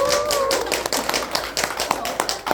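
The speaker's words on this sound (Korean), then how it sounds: "미팅 성공할 수 있도록 박수 한번 주세요" Scattered clapping from a small seminar audience, sparse and uneven sharp claps coming and going, with faint voices mixed in.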